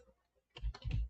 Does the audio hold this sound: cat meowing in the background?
no